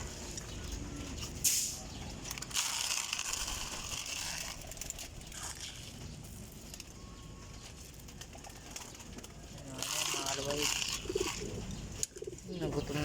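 Pigeons being fed in a loft, with steady soft cooing and bird calls throughout and occasional brief rustling or flapping near the end.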